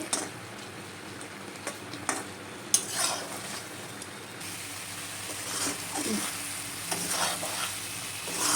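Ash gourd morabba cooking in sugar syrup over low heat, a faint sizzle with soft stirring scrapes and occasional clinks of a spoon against the pan, close up and fairly quiet.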